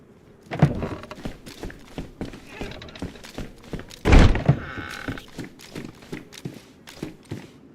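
A door slams shut with a heavy thunk in the DayZ video game, one loud close impact in the middle, with scattered footsteps and lighter knocks around it.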